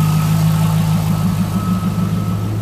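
A C5 Corvette with a stainless steel Borla cat-back exhaust, MSD plug wires and a cold air intake idles close by, a steady low rumble with an even, unbroken throb.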